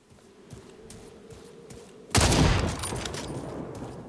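Sniper rifle gunfire in the video game Second Extinction on Xbox Series: one sharp, loud shot after a quiet stretch, followed by a long decaying rumble and crackle, no talk.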